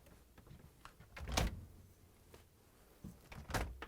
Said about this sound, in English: Before closing the door, we need to close the mullion, and then we can close the door.